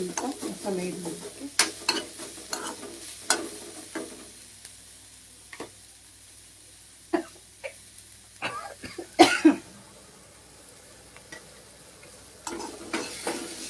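Vegetables with masala sauté in a pan, with a soft continuous sizzle and spaced, sharp scrapes and knocks of a stirring spoon. A brief cough breaks in partway through.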